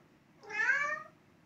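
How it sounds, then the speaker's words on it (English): A house cat gives a single drawn-out meow, fairly close and clear, rising and fading over about half a second against a quiet room background. "You can hear my cat in the background"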